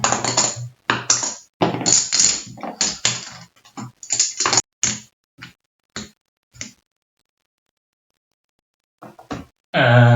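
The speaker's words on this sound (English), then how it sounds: "So now you need to shuffle all of these chips." Rapid clattering of small plastic board game chips for Cloudspire being shuffled, in bursts of rattling clicks that stop and start, then a brief knock near the end.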